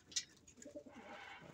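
Pigeons coo softly in a rain-dampened loft, a few low rolling coos and a brief chirp heard faintly nearby, with no talking.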